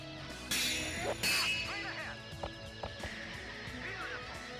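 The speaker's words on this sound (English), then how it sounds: "So many birds." Many birds call loudly on a golf course, with honking, goose-like and duck-like squawks repeating over a steady outdoor background and a few louder bursts near the start.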